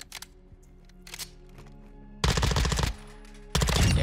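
BAS-P rifle in Modern Warfare 2 on a firing range, with a few single shots at first, then two loud sustained bursts of rapid automatic fire, close and dominant.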